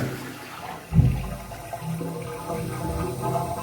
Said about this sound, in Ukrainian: чітко чути сліви везде, слухайте, туалет злив